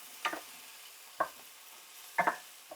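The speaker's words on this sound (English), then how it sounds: "Get that stirring in there." Butter sizzling in a frying pan while being stirred for a salad, heard as three or four short scraping bursts of stirring over a faint, steady sizzle, fairly close and with no talk.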